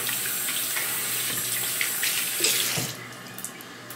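Hands being washed under a running tap, a steady close rush of water splashing into a sink that drops to a quieter trickle near the end, with no voices.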